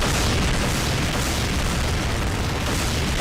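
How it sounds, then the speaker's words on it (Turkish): A dark orb special attack explodes in the Sonic Mugen fighting game as one loud, dense blast of noise that fills the whole three seconds without letting up. "Special'ı Karanlık küre atıyor ve patlıyor."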